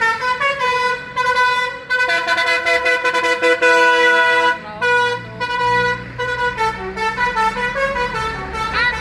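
Telolet Basuri horn on an Ekasari tour bus in Sokaraja, playing a loud continuous melodic tune of changing tones for several seconds, close by and steady.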